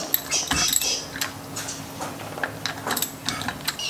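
A socket wrench ratchets off 12mm nuts on the brakes of a 60 Series Land Cruiser, giving close, quick metallic clicks and clanks in uneven bursts with no talking.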